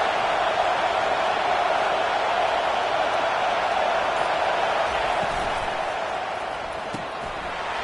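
Stadium crowd in College Football 25 roars in a broad, steady wash of cheering and noise, sustained and loud, dipping slightly near the end.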